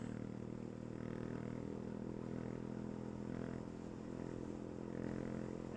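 Two Suzuki Raider motorcycles revving somewhere off at a distance, a sustained engine drone with gentle swells in pitch, heard alone without any talk.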